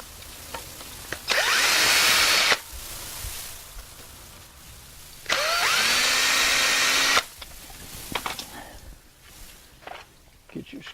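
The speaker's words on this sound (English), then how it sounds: "go ahead and drill your pilot hole" A power drill whirs in two bursts of a second or more each, drilling a pilot hole while installing a doorknob and deadbolt, its pitch sliding as it bites in, with quiet handling noises in between.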